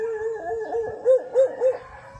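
A dog howls and barks at a person close by, a wavering howl followed by three sharp, rising bark-howls in quick succession, with no talking.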